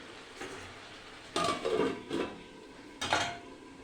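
A metal lid clanks onto a cooking pot of chicken curry in a few quiet, close knocks and rattles, with soft scraping between them and no talk.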